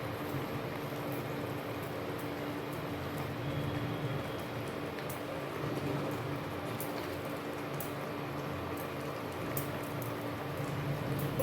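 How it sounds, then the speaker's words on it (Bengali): Gravy for a pabda fish curry boils in a pot, a quiet, steady bubbling and hissing that runs on evenly at low volume. "দেখো বন্ধুরা, আমি জল দিয়েছি, যে ঝোলটা ফুটে উঠেছে।"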